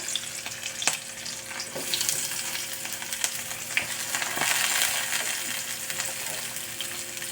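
Finely chopped onion and green chili sizzle in hot oil in a pan, a steady close frying hiss dotted with small crackles and pops throughout, with no talking.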